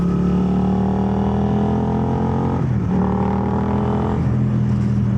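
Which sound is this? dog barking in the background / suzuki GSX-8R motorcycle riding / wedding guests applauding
suzuki GSX-8R motorcycle riding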